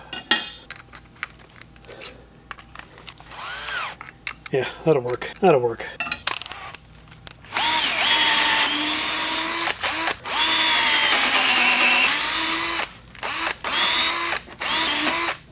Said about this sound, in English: we're going to have to go a little bit further in with the drill on the two front screws